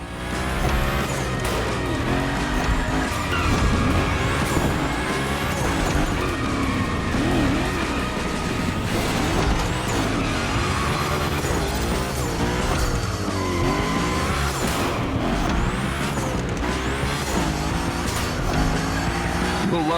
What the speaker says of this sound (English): we're gonna rough up the Unicorn a bit. We're focusing on Gymkhana essentials, big slides and precision